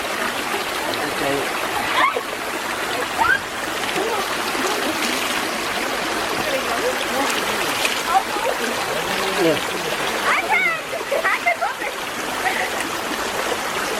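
Stream water at Arba Minch splashes and rushes continuously as someone washes in it. The close, steady wash of water is broken by occasional sharper splashes.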